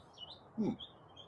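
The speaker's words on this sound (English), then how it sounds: "I don't know if you can hear the birds." A few faint, high chirps from birds in a chilly suburban backyard, thin and distant over a low background hiss.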